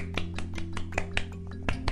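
Hands clapping on a podcast, about ten sharp, even claps in quick succession, close and loud over a steady low hum, with no talking.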